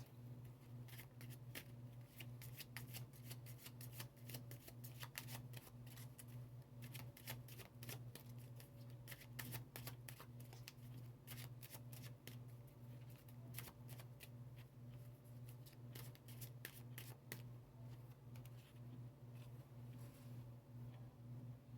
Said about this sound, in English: Let's go ahead and get the other two cards.